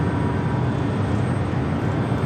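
Boeing 787 Dreamliner arriving on the north side at LAX, a continuous broad rumbling roar of jet noise, steady and moderately loud throughout.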